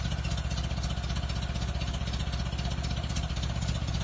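A 1928 Ford Model A Roadster Pickup barn-find engine idling steadily, a close, even, loud mechanical putter with no talk over it.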